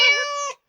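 A cat gives a single short, clear meow, close and loud, lasting about half a second before cutting off.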